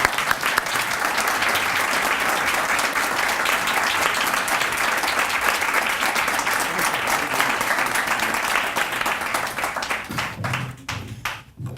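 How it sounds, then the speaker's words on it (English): Sustained applause from a large audience welcoming a speaker onto the stage, dense and even for about ten seconds before thinning out into scattered claps. "Please welcome Honorable Shashi Tharoor with a huge round of applause."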